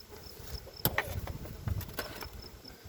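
Honey bees buzz around a beehive after being smoked, a soft insect drone with brief sharp knocks and rustles from the hive work mixed in.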